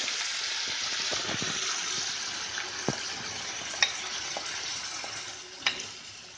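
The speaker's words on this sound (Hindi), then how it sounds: "तेल हमारा गर्म हो चुका है। अब इसमें डाल देंगे हम लहसुन" Steady sizzling of spiced garlic frying in hot oil over high heat, with occasional clinks and stirring scrapes, moderately close and no talking.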